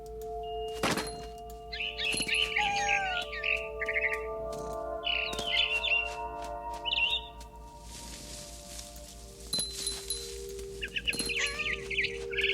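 A frightened barn swallow in the video game What Remains of Edith Finch gives bursts of sharp chirps and twitters. Occasional soft thunks and a sustained tonal background accompany the calls.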